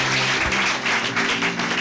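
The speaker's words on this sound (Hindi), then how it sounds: "एक जोरदार ताली परमेश्वर के वचन के लिए बजाएंगे हम" Congregation in a church clapping together after a sermon, a brief, loud burst of many hands with a rhythmic pulse and faint voices mixed in.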